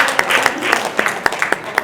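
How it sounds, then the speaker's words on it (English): Audience applause at a real estate talk, a moderate patter of claps with sharper individual hand claps popping out at irregular intervals, steady throughout and slightly roomy. "Let's give her a round of applause"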